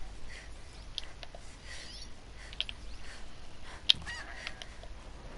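A goose in the video game Horizon Zero Dawn gives a few faint, scattered honks over a quiet outdoor game ambience.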